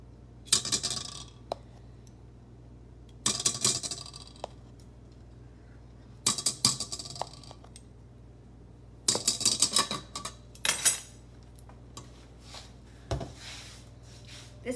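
Cocoa powder is sifted into chocolate molten lava cake batter, making several short bursts of brisk metallic rattling and clicking from the sifter, close and crisp with quiet pauses between them.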